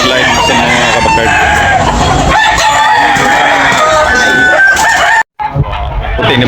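Roosters crow repeatedly amid clucking fowl at a chicken market in Tabunok, Talisay, Cebu, loud and busy with overlapping calls and a brief dropout near the end.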